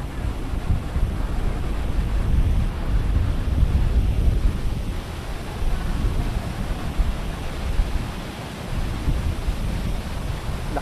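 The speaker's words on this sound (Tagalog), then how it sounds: "Lakas ng alon, no?" Strong wind buffets the microphone over the roar of heavy surf on Boracay's White Beach, a loud continuous wash of waves and gusts with no talk.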